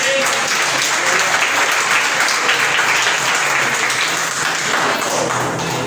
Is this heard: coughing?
no